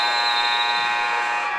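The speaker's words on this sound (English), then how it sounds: "the buzzer went a little premature" A loud, sustained electronic buzzer sounds at a girls' all-star basketball game, a steady tonal blare holding for over a second and a half with almost no talk over it.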